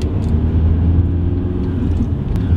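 An Audi A4 TDI diesel pulls away in first gear, a steady low engine rumble close by with a slight rise in revs, alone with no talking.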